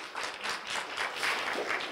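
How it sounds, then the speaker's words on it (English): Audience at a Santa Ana city strategic plan community workshop applauding, a short, lively round of many hands clapping with steady density at moderate loudness. "Let's give him a round of applause"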